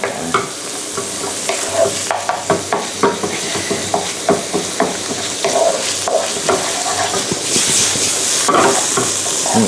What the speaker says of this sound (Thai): คุณผู้ชมต้องผัดให้แห้งนิดนึง